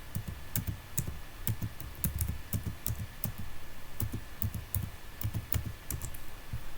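Keys on a computer keyboard are tapped in quick, uneven bursts of light clicks, close and fairly quiet with no talking over them.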